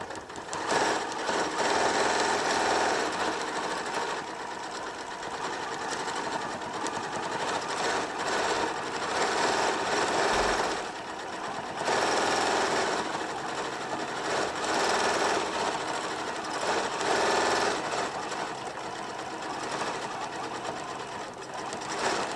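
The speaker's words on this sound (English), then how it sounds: "A lot of these newer ones, they'd make one stitch so you can pull your bobbin thread up through and then start sewing." A domestic sewing machine running steadily during free-motion quilting, a loud continuous mechanical whir with rapid stitching rhythm that briefly slows and pauses around the middle before resuming.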